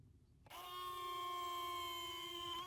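A Hangar 9 P-47 RC plane's retractable landing gear motor whirs into life after a brief pause and runs as a steady, close electric whine for about two seconds.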